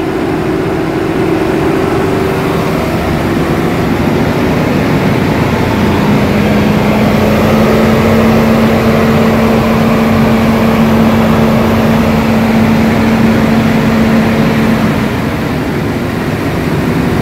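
A Chevrolet Trailblazer engine running at a steady idle, loud and continuous with a low droning hum and a faint shifting tone throughout, heard alone without talk.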